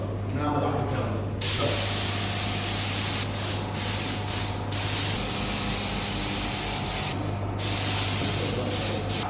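A spray gun sprays lacquer onto a Ford Mustang Mach-E GT under repair: a loud, steady hiss close by, broken by a few brief pauses, over a low constant hum.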